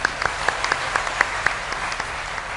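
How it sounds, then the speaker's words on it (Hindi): An audience at a Ram Katha religious discourse gives brief, steady applause, a dense wash of many hands clapping together. "हाँ दोनों के लिए तालियां"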